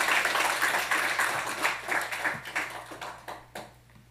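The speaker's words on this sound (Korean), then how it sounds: "우리 경례 박수 하겠습니다." Church congregation clapping during a Sunday worship service in Korea, a dense burst of applause that thins into scattered claps and fades out over about four seconds.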